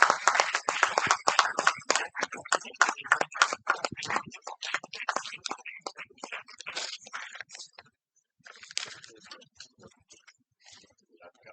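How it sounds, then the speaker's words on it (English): An audience gives a lecturer a round of applause, a quick crisp clapping that starts thick and thins out into scattered claps before fading to near silence. "Please give a huge round of applause."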